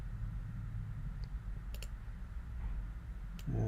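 Computer mouse clicks sound in a quiet room, a few faint, sparse taps over a low steady hum, with no talk.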